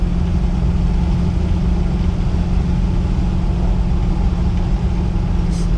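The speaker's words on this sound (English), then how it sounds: "go through the gears one more time." 1963 Buick Riviera with a 401 V8 cruises under way, its low engine rumble a constant, fairly loud drone mixed with road noise, no other sounds standing out.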